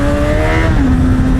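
A Honda Hornet 1000 motorcycle engine drones loud and close, dipping briefly in pitch before it pulls again under throttle, with wind rush all around and no talk.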